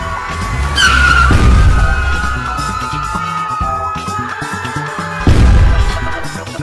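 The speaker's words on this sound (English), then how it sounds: "You made the bus crash." Cartoon school bus crashing in an animated show, a loud tire skid and squeal around one second, then rumbling impact noise and a second loud burst near five seconds, with no talking.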